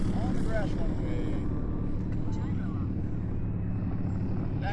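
A small E-flite P-39 electric RC warbird taxis back across a grass runway, its steady motor drone continuous and close throughout, with no talk over it.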